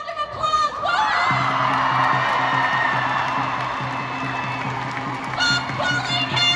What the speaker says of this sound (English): And just give ourselves another round of applause.